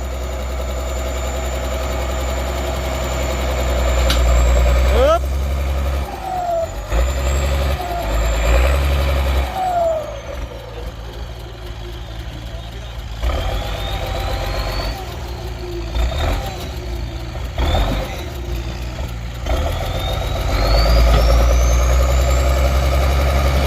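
A Ford 7840 tractor engine works hard to pull out a tree stump. It roars loudly and close, with a deep steady rumble, and it surges and strains repeatedly as the load rises and falls.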